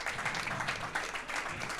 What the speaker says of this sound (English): and the audience, give them a big applause.